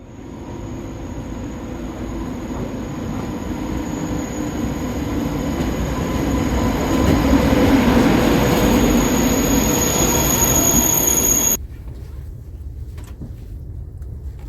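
Loud, steady rumble and hiss of a TGV high-speed train at a station platform, building to a peak then cutting off abruptly, leaving quieter station ambience.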